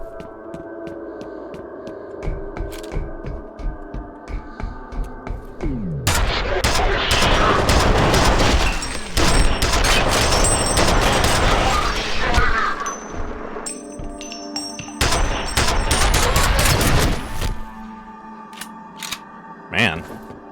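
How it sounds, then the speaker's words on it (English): A nail gun and grenades firing in a video game: loud, dense bursts of rapid shots and blasts, one long barrage followed by a shorter one, with a voice talking throughout. "Man, this is a dangerous nail gun. That is some grenade."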